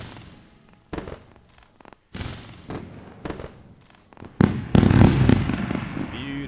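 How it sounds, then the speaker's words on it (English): Fireworks sound effect with a series of sharp pops and crackling bursts, the bangs spaced out at first and then building into a dense, loud crackle. "And some happy firework time."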